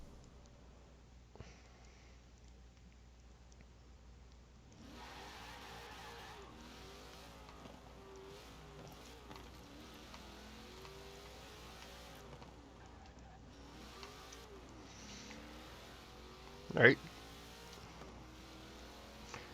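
Engine of a 2005 Hot Wheels Mustang driven in Forza Horizon 4, a steady low drone that rises and falls with shifts, quiet overall, one brief loud knock partway through and a short spoken word.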